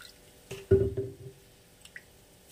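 Diluted kasundi mustard sauce poured into a simmering bele fish curry, a single soft splashing pour with a brief wet squish, close by and fairly quiet, followed by faint drips.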